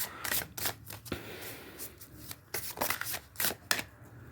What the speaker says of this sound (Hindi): अभी तो मैं बस कार्ड शफल कर लूँ